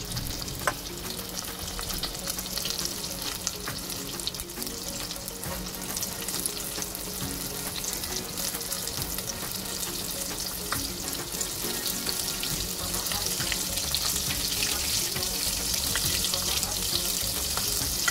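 Squid frying in a pan sizzles and crackles in a dense, continuous hiss that holds steady throughout, with occasional stirring clatter and no voices.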